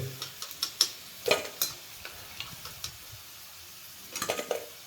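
Crispy fried cauliflower pieces for gobi manchurian are lifted from hot oil, producing a quick series of light crackles, taps and clinks of a utensil against the pan, close and without speech.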